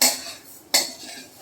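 A spoon stirs sugar into grated fresh coconut and ghee in a pan over low heat, making two sharp metallic clinks against the pan, one at the start and one about midway, with quiet scraping between.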